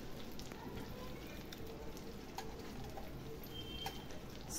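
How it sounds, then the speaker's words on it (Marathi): Eggs frying in oil in a pan for egg masala, a continuous soft crackling sizzle with occasional sharper pops, steady and close with no talk over it. "दुसऱ्या साईडनी पण आपल्याला छान खरपूस अशी भाजून घ्यायची ह्याच तेलामध्ये"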